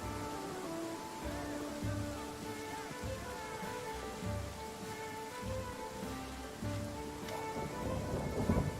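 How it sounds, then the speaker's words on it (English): Steady rain pours in the fantasy role-playing game Pathfinder: Kingmaker, a dense continuous hiss of raindrops with soft low rumbles like distant thunder beneath, ambient and even throughout with no talking. "Still raining?"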